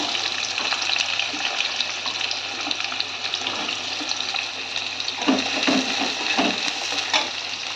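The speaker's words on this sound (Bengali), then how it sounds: "এখন আমি পেঁয়াজ কুচিটা এটা এখন দিয়ে দেবো কড়াইতে" Chopped onions added to a wok over ginger and green chillies fry with a constant loud hiss, with a few sharper stirring bursts near the end and no talk.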